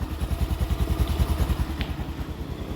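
A motorcycle engine idles on a cold start with a fast, even, lumpy putter, loud and close, with a slightly rough, uneven beat and a faint clatter.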